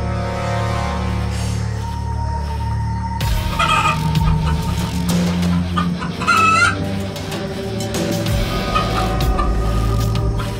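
Chickens cluck and call loudly and close by, with repeated bursts, and a rooster-like cry rises in the second half. The calls sit over a constant low background hum.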